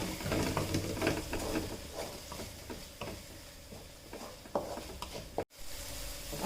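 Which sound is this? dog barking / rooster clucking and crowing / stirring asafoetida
stirring asafoetida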